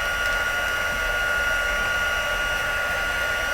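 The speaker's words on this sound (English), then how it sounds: "you don't want your heating tool to blow your powder away" A heat embossing tool blows hot air in a continuous, even whoosh with a steady high whine. It runs unbroken and close up, with no talk over it.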